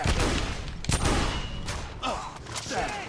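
Heavy shotgun blasts in The Order: 1886 game combat, several loud booming shots spaced irregularly over a dense background of gunfire and effects, with someone talking over them.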